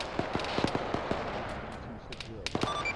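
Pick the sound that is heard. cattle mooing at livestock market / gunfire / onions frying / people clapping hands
gunfire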